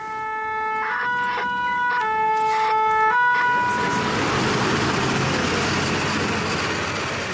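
A fire engine siren sounds with stepped two-tone electronic wails, then gives way to a louder, broader roaring siren with heavy road noise as the vehicle approaches.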